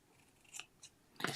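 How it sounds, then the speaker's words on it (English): Scissors snipping through paper, a couple of soft crisp cuts followed by a louder, longer slicing snip, close and isolated. "My scissors need to be sharpened"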